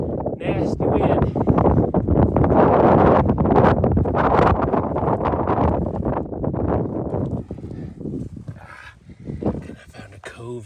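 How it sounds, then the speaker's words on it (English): Strong hurricane wind roars and buffets the microphone almost continuously outdoors while rockhounding, easing somewhat toward the end, with a person talking underneath. "Nasty wind."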